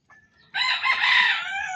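A hen calls loudly and close by, a drawn-out, squawking cry held for over a second after a brief softer note, with no talking, in rainy weather.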